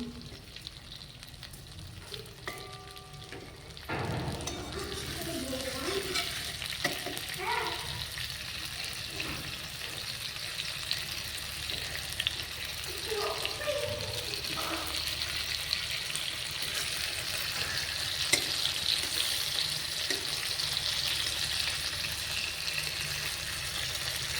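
Eggplant slices frying in a pan as a hot home-cooked dish, a steady loud sizzle running continuously after a quieter opening few seconds, with occasional faint clinks and stirring.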